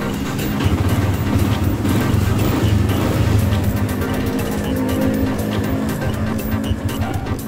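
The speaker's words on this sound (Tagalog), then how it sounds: "So papainit muna natin yung makina kahit 5 minutes lang." A motorcycle engine idles steadily to warm up before an oil change, giving a continuous close low rumble with a faint mechanical hum throughout and no talking.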